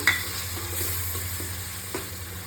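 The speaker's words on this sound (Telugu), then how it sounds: "అందులోనే మళ్ళీ టమాటా, రుబ్బి పెట్టుకున్న టమాటా కూడా వేస్తున్నా." Chicken gravy frying in a pan as ground tomato paste goes in, a steady close sizzle with a few soft stirring scrapes, no voices.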